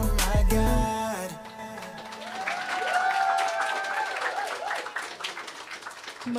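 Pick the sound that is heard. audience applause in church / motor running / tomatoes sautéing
audience applause in church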